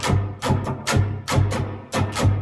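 Rhythmic guitar strumming for a song, a steady pattern of bright, full strokes repeating roughly every half second, played alone and up close.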